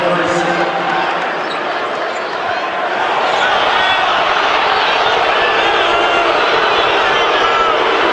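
At a Washington versus Minnesota men's college basketball game, an arena crowd roars and boos loudly in disapproval after a foul call, the sustained wash of voices swelling further partway through while announcers talk over it.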